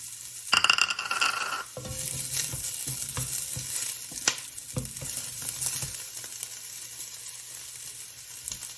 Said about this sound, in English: Stir frying is a very quick process. So always start with your onion.